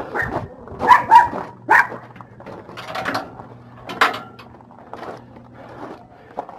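Several dogs bark and yip in short bursts at close range, a few sharp barks clustered early and more scattered ones later, with a faint whimper between them, in a desert setting.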